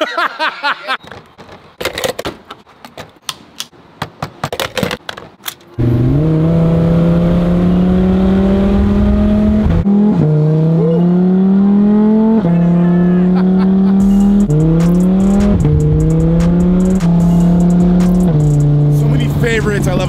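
A sports car engine revs hard in repeated rising pulls, each followed by a quick drop as it downshifts, loud and close, after a stretch of choppy bursts.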